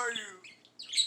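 A pet bird chirps and tweets in a few short, fairly soft bursts indoors, with brief quiet gaps between calls.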